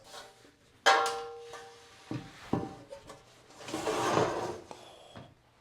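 A drawer slide being fitted onto the rails of a custom-built Fuso overlander camper, giving a sharp knock followed by scattered wooden clunks, rubbing and a longer scraping slide, close and fairly loud.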